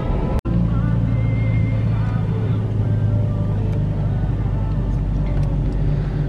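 Steady low rumble of a car on the road on the way to the hospital during labour, a continuous engine and tyre drone with a brief dropout near the start and no talking.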